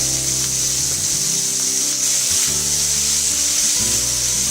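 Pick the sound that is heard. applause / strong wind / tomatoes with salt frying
tomatoes with salt frying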